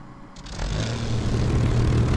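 A video game aircraft's propeller engine cranks and catches, building quickly into a loud, steady propeller drone with a low throbbing hum.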